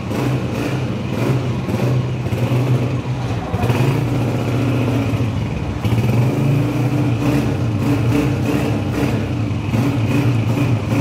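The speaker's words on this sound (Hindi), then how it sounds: "गाड़ी का इंजन चेक करो।" A 2017 Honda 125 motorcycle engine runs close by with a loud, steady mid-pitched putter, rising in a few brief revs over the course of the run.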